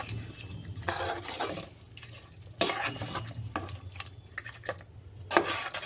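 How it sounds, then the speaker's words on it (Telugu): Lemon pickle mixed with salt and chili powder, stirred in a bowl with repeated wet, squelching scrapes in uneven bursts, close up and alone with no talking. "అది వేసేసుకొని ఒకసారి కలుపుకుందాం"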